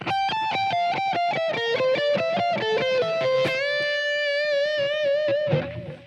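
Rapid, evenly spaced electric guitar notes alternate-picked in continuous sixteenth notes with a distorted, effected tone, running without pause and ending on a sustained note.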